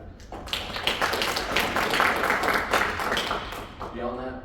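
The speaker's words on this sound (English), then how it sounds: "So a round of applause for everybody who went into planning and making sure that this happened." Applause from the audience at a Yankee National Party convention, a dense steady wash of many hands clapping close by for about four seconds before it thins and a voice begins to talk over the tail.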